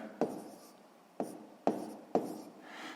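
Pen strokes writing by hand on paper while working a sixth-grade fraction exercise: four short, close scratchy bursts spaced about half a second to a second apart, quiet and alone with no talk.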